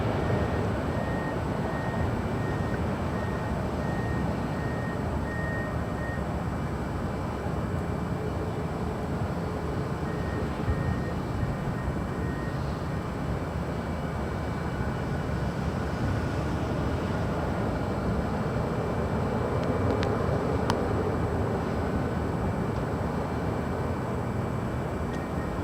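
A Southwest Airlines Boeing 737-700 at LAX produces a steady, broad engine roar that holds at an even level throughout, with no talking.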